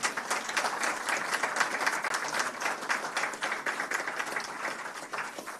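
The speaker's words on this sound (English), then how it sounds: "give this team a very good round of applause" A round of applause for a team at a media and digital platforms market inquiry hearing: steady, fairly soft clapping from a modest audience, continuous throughout without talk.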